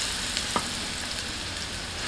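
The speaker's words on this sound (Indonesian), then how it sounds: "ini bumbu yang sudah dihaluskan kita gosok" Ground spice paste for Indonesian rawon, made from pounded galangal and ginger, stir-fried in a pan, giving a steady soft sizzle with a couple of faint stirring clicks, close and quiet with no talk.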